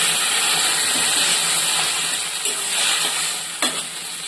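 Water goes into a pan of frying Malabar spinach for a fish head curry, producing a loud, continuous sizzling hiss with a brief scrape near the end.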